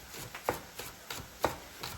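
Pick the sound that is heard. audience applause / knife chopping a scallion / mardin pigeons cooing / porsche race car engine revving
knife chopping a scallion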